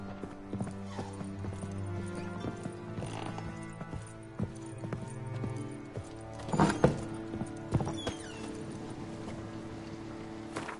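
Hooves of the horse Roach clip-clop in The Witcher 3, moderately loud under music and ambient game sound, with a neigh and a few heavier thuds near the end.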